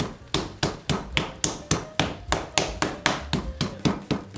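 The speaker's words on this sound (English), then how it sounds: "And we're gonna pound this flat, not flat. We got a smooth sided hammer." A smooth-sided hammer pounds meat flat for schnitzel, about fifteen heavy, evenly spaced thuds in a steady rhythm, loud and close with no talk.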